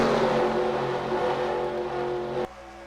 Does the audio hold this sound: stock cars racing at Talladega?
yes